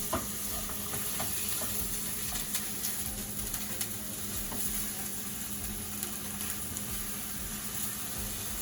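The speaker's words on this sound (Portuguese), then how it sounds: "Nós vamos acrescentar aquela cebola ralada. Vamos continuar refogando." Grated onion sautéing in a pan gives a steady, close sizzle with light stirring scrapes throughout, and no voices.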